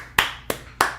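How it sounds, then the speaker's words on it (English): Three sharp, separate hand claps land at an even, slow pace, close and distinct with quiet between them. "Can we just give him a round of applause"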